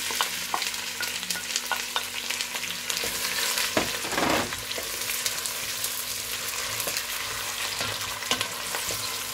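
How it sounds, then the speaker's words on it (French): Onions frying in hot oil for Senegalese thieboudienne, a steady close sizzle and crackle with a few brief stirring scrapes and a louder burst midway. "On fait frire nos oignons."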